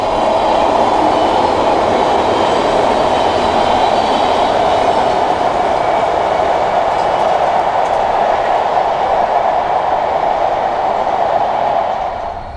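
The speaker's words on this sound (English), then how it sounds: "Trains run about every half hour, right above us." MARTA commuter train passing directly overhead on an elevated line in Atlanta, a loud sustained rumble and roar with rail hiss that holds steady for over twelve seconds before fading slightly at the end.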